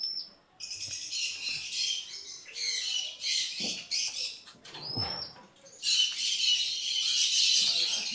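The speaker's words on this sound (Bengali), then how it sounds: "এই পাখিগুলো এখন আমরা এই কলোনি সেটআপের মধ্যে রিলিজ করব" Lovebirds being released into a sturdy outdoor colony aviary fill the air with shrill, dense chattering bursts, loud and near, broken by brief gaps and a couple of sharp single squawks, with no talking.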